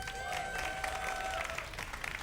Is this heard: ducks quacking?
no